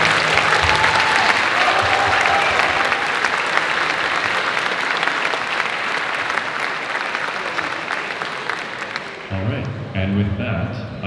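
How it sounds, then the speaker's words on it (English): Sustained applause from an audience at a Longhorn Racing car unveiling, honoring the team's engineers; steady dense clapping fills most of the clip, thinning toward the end as other sound takes over. "Round of applause for Clark,"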